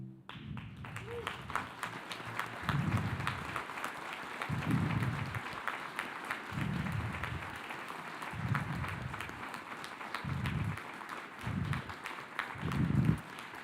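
Church audience applauds veterans and active duty service members standing in the crowd, a sustained, moderately distant round of clapping with a low rumble of movement pulsing underneath.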